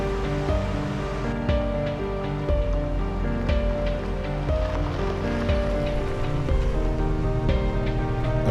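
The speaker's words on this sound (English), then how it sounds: "Yeah, I recognize this old rickety bridge. This is Downey Creek." Creek water rushes steadily beneath an old rickety wooden bridge over Downey Creek in the Suiattle River Valley rain forest, a continuous close broadband wash of flowing water with no talking.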